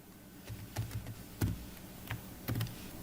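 An email address being typed on a computer keyboard while registering on a website: quick, irregular key clicks, fairly close and soft, no talking.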